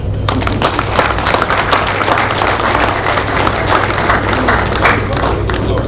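Dense, sustained applause fills a parliamentary assembly hall as many people clap together. The sound is loud, even and continuous throughout, with no break.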